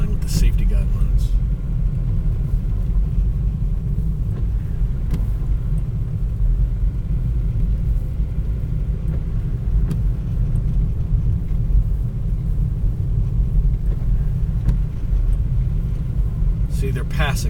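A car drives along a snow-covered road near the Beechmont Levee during a snowstorm. A loud, steady low engine and tyre rumble runs through the whole clip, with a brief hiss at the start and end.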